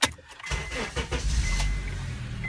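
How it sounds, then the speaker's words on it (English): A 2006 Honda Accord's 2.4-litre engine cranks and catches about half a second in, settling into a steady, close, low idle rumble with no talk. "we go ahead and start the engine"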